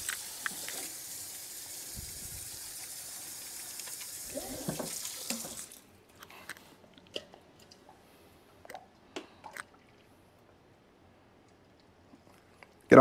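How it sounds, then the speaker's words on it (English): Tap water gushes steadily for about six seconds while a juicer part is rinsed under it, then cuts off, leaving scattered small clicks and handling noises. "Let me rinse this off first."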